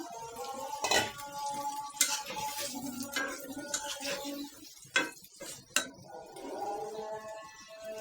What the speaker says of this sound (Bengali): এখন মাংসটা দিয়ে দিয়ে মাংস আর আলুটা একসাথে দিয়ে দিলাম।